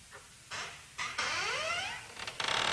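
A door creaking open, with short scraping bursts followed by a long rising and falling high-pitched squeal and a few quick squeaks at the end, fairly close and clear with no talk.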